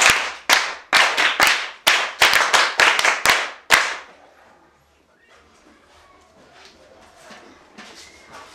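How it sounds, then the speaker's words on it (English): Classroom hand clapping in about a dozen sharp, close, rhythmic bursts over roughly four seconds, followed by quieter room noise with faint background voices. "Clap hands for her."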